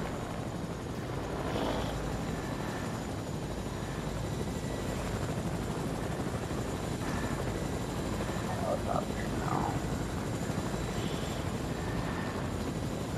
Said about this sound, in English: I hear another helicopter.